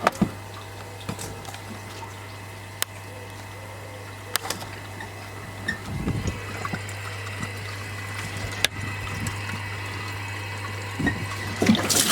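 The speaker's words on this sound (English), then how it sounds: "See, pump coming back in, quite a lot of debris coming in" A garden koi pond pump restarts, sending water rushing and splashing steadily through the system with debris, close and continuous, with occasional clicks and knocks over a low mechanical hum.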